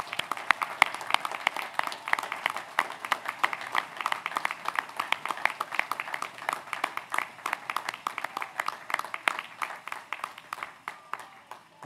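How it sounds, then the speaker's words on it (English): Dense, steady audience applause at a commencement ceremony, many hands clapping at close range for the full length without letting up, with sharp individual claps standing out from the crowd. "How about one big round of applause again for all of our newest doctoral?"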